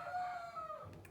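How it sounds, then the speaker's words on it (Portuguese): A rooster crows once in a long, drawn-out call with a falling tail, fairly close and clear against a quiet indoor background. "Gente, paciência com o galo."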